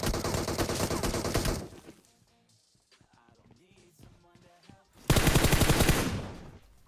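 Rapid automatic gunfire in PUBG Mobile bursts loudly in close, rhythmic volleys, stops for a few seconds of quieter game sounds and a brief voice, then resumes just as hard.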